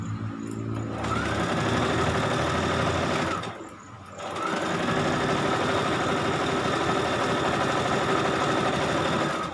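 Electric sewing machine stitching all the way around a blouse piece, a fast, even whirr heard close up, pausing briefly for about a second before running on steadily to the end.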